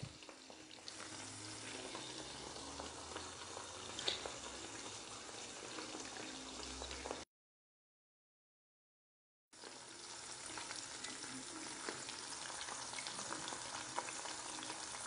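Sausage sizzles and crackles in a hot pan while it is fried for a dinner with eggs, a steady close frying hiss broken by a couple of seconds of silence.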